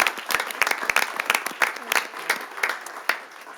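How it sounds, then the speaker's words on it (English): A city council chamber audience applauds award recipients, a modest gathering of individual claps heard close and uneven, rising and thinning in bursts for several seconds. "Let's give another round of applause to all the recipients of both the departmental awards and recognition awards."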